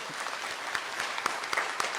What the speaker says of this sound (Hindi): नहीं दिख रहा तो तालियां बजा दें।